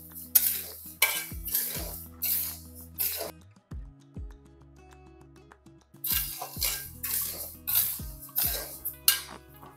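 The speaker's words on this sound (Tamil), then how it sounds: "அதுலேயே போட்டு சும்மா ஒரு பெரட்டு பெரட்டிக்கலாம்" Rice being stirred in a hot pan with the stove switched off, made for crispy murukku: a metal spoon scrapes and clinks against the pan in repeated strokes, close by, with a short quieter pause midway.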